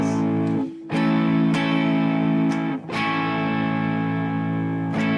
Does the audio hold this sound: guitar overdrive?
yes